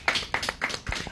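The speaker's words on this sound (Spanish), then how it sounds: "nuevamente un aplauso para Dianita" A small audience claps for a woman named Dianita, with a few uneven bursts of handclaps over a short stretch and no voices.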